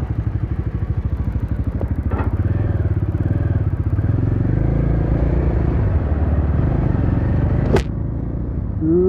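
A Bajaj Dominar 400cc motorcycle engine runs steadily near a bikers cafe during a test ride, a loud, even throbbing rumble with a brief clatter partway through.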